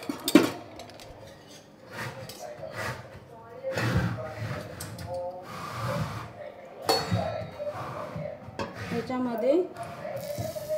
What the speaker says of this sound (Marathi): गॅसवर तवा तापत ठेवायचा.